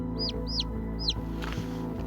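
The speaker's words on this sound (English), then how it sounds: "There's our chickens enjoying their present that I just gave them" Backyard chickens in a hot desert yard cluck steadily and close by, with a few high chirps over a constant low hum.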